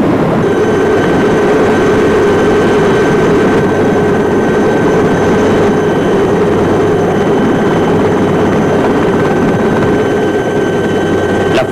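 UH military helicopters in flight, a loud, steady rotor and engine roar that holds close and constant throughout with no talk.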